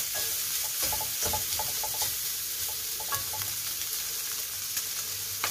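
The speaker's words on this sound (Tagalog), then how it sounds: "So ngayon na-saute na sila. At yung mga bawang ay nagba-brown na rin, naluto na." Garlic and onion sauté in a pan for dinuguan, a steady close sizzle of frying with repeated scraping and stirring clicks from a utensil, loud and constant with no talking.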